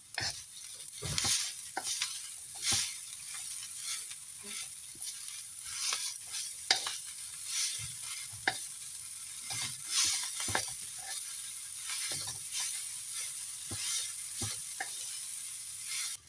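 Fresh noodles stir-fried in a pan with carrot, cabbage and bean sprouts give a continuous hiss of sizzling, punctuated by repeated sharp scraping and clanking strokes of the spatula, close up and without speech.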